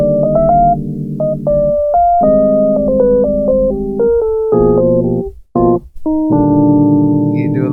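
The Boondocks ending theme lick plays on a keyboard as a loud, clean melody over sustained chords, with a brief gap near the end before the final chord rings out.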